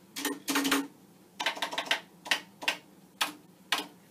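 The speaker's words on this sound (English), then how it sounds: "It has that pet keyboard sound." Keys on a 1979 Commodore PET computer's mechanical keyboard clack in irregular bursts, some quick runs and some single strokes, close and crisp with quiet between them.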